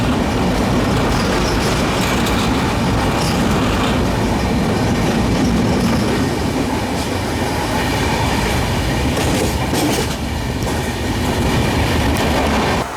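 The Mandovi Express on the Konkan Railway rolls across the high bridge over the Panvel river, a loud, continuous rumble of wheels with steady clickety-clack and occasional faint squeals heard close by.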